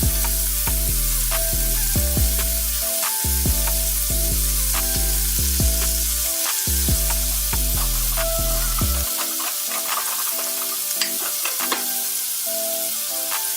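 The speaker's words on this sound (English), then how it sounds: "That's what we're going to fry our shrimp in." Shrimp frying in hot bacon grease in a pan over medium-high heat, a steady loud sizzle broken by short pauses and a strong repeating tonal hum throughout, with no talking.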